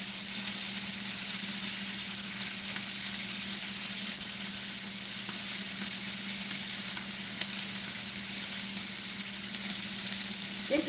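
A rib roast sears in a hot pan with a constant, loud, even sizzle and hiss that holds steady throughout, close up and with no voices.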